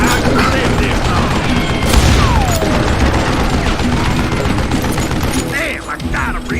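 Dense, loud gunfire in Call of Juarez: Gunslinger, rapid overlapping shots and mechanical clatter forming a sustained fusillade with a brief lull near the end.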